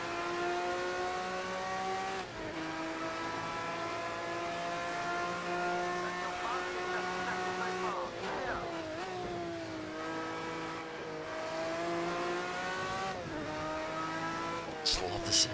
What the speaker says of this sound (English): Just love the sound of this car.